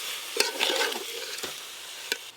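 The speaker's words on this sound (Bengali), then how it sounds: "এই দেখুন সব মশলার সাথে ফুলকপি, আলু আর ডিম এই যে এইরকম ভাবে কষে নিয়েছি" Stir-frying cauliflower, potato and egg with spices in a pan, with a few close scraping and stirring strokes over a faint, steady sizzle.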